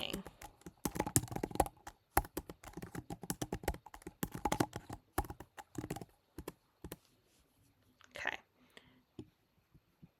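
Rapid clattering keystrokes on a computer keyboard, dense bursts of clicks that thin out toward the end, close and fairly quiet.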